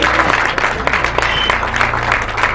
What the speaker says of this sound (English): Please, can we still clap for them again?